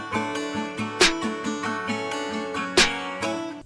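A snare drum sample in a country rap beat cracks sharply over a looping melodic backing, with a few spaced hits standing out loud against the music.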